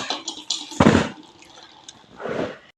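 An onion being washed under water, heard as short splashing bursts and drips with quiet pauses between them, close by.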